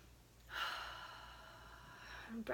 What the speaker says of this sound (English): Let's take a couple breaths in.